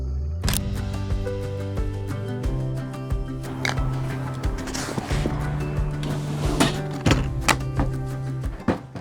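During a headshot photo shoot, a camera shutter fires in several distinct clicks at irregular intervals, sharp and close, over a low tonal background hum.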